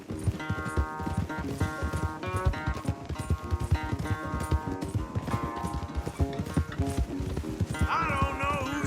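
Horses galloping in Red Dead Redemption 2, with a steady clip-clop of hooves under game music and a brief whinny near the end; voices may be faintly present.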